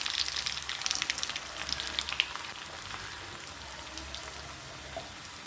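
Cumin seeds, curry leaves and garlic sizzling in hot oil, a soft, continuous crackle with scattered tiny pops, close but fairly quiet, fading slightly over a few seconds with no voices.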